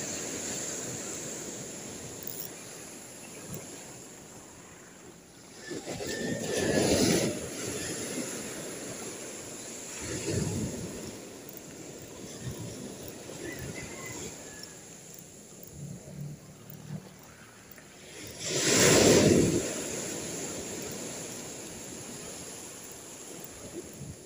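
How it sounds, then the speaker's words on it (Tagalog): Ocean surf rolls onto a shore in a strong northeast monsoon wind during a fishing outing, with two or three louder wave surges breaking over constant wind rumble against the microphone. "Medyo naliit na yung alon dito."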